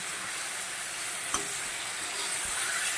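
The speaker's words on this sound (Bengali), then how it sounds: "আমি সুন্দর করে কষিয়ে নেব" A spice mixture sautés in a pan, a continuous bright sizzle with a brief scrape of stirring partway through.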